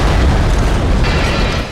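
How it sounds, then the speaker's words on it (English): A loud, sustained explosion during a tornado tearing through steel buildings in an industrial complex: a dense roaring blast filling the whole clip with no voices. "And then an explosion."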